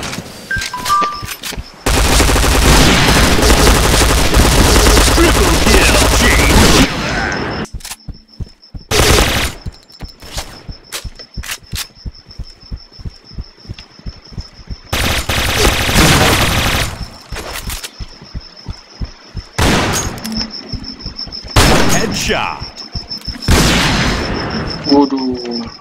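Bursts of automatic gunfire and explosive booms from the first-person shooter game Point Blank (PB Offline), loud and sustained in several long volleys separated by short single shots, with in-game voice lines heard between.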